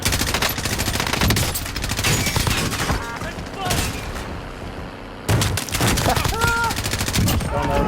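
Video game gunfire in a team shooter match: dense bursts of rapid shots and booms crackle almost continuously, pausing briefly before another loud volley, with game tones and faint voices mixed in.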